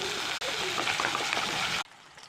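Potatoes frying in hot oil in a home kitchen, a loud, dense sizzle that runs steadily for a couple of seconds, then cuts off abruptly into quiet.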